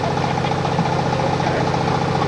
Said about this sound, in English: And there's our train ready to roll